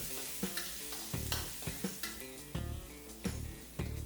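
Crushed garlic stir-fries in hot oil for a shrimp and straw mushroom dish, with a soft continuous sizzle broken by a rhythmic series of spatula scrapes and taps, close but quiet.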